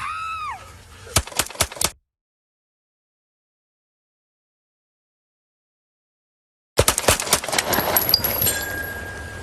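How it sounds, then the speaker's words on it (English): Police gunfire during an armed traffic stop: a quick volley of four loud, sharp shots, then sudden silence before another burst of rapid shots and commotion, with a siren-like whoop heard at the start. "Shots fired. Shots fired."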